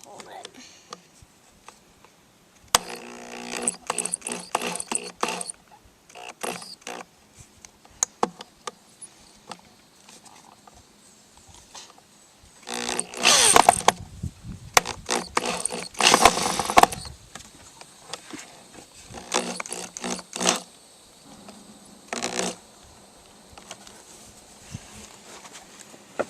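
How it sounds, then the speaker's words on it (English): Screws are driven into the wooden roof and gable pieces of a handmade top bar beehive, with buzzing power-driver bursts coming in short runs between stretches of conversation. "Now he's going to get the screws in."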